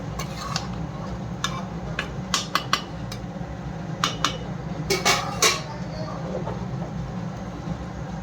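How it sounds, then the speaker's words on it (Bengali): Fish pieces being added to a simmering eggplant and potato curry, a series of sharp metallic clinks and clatters of a utensil against the pot over a low steady background hum. "এই মাছগুলো আমি এখন এর মধ্যে দিয়ে দিচ্ছি। তরকারির মধ্যে দিয়ে দিলাম মাছ।"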